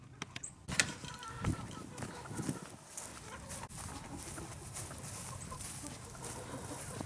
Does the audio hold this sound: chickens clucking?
yes